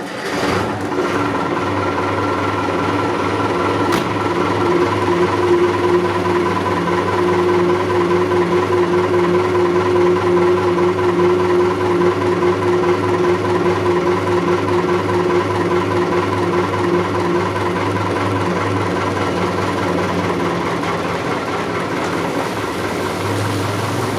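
Vintage TAM 110 T10 truck engine running steadily at idle or low revs, a continuous loud diesel drone with a low, even rumble that holds for the whole stretch without speech.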